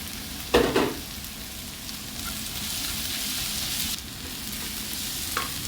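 Chopped coconut pieces dropped into a hot pan for a duck roast, frying with a steady close sizzle after a brief clatter as they go in, with faint stirring scrapes and no talk.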